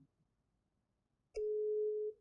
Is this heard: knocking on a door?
no